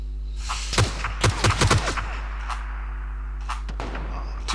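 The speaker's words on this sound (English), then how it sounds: "Another team firing from behind." Gunfire from another team in the video game PUBG, a short cluster of sharp shots followed by a couple more later, over a steady low hum.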